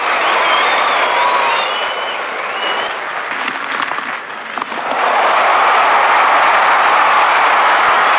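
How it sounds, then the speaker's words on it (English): Crowd cheering and applauding, a dense steady roar of clapping and voices that dips briefly in the middle before swelling back to full strength. "and the crowds cheer"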